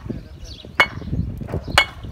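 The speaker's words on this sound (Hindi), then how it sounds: "तो अभी ये 2 अव्वल ईंटें हैं, इनको टकरा के चेक करते हैं कि इसमें आवाज़ कैसी आती है।" Two first-class clay bricks are knocked together twice, each strike a sharp, bright clink that rings briefly, over low background noise and faint murmuring.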